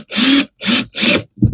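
A power drill bores into wood inside a log cabin campervan build, in three loud, close bursts of roughly half a second each with brief gaps, then a shorter rattling burst.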